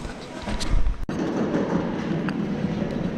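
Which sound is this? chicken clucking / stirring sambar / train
train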